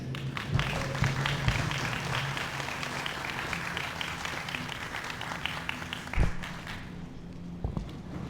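An audience at an outdoor celebration of the Clean Water Act's 50th anniversary claps steadily for several seconds, a moderate wash of many hands with a few sharper claps standing out, tapering off toward the end.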